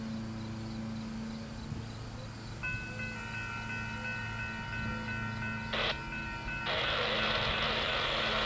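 An empty Union Pacific coal train passes at speed, a steady broad rolling rumble heard from outdoors and fairly far off, with a rising wash of wheel and wind noise near the end and some faint tonal whines.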